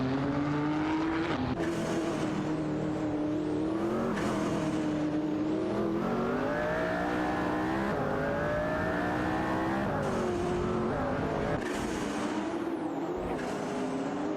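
Saleen S7 twin-turbo race cars in a video game, a sustained loud engine drone rising and falling through gear changes, with brief shifts and passes.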